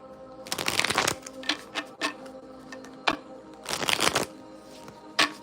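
A tarot deck is shuffled by hand in several quick riffling bursts separated by short pauses, close and crisp, with no talking.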